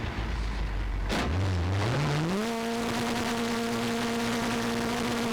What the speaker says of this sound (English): The Puma rockets off the start line and into the left-hander at Kennel.